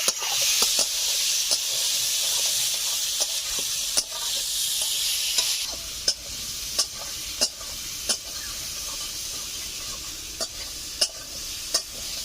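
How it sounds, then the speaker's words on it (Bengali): Ground coriander and turmeric fry in oil in a pan for a Bengali fish curry, a constant close sizzle broken by regular sharp scrapes and taps of a spatula stirring the spices, no one speaking. "ধনে গুঁড়ো, হলুদ দিয়ে দিচ্ছি। 2-3 মিনিট মতো ভালো করে নেড়ে চেড়ে নেব।"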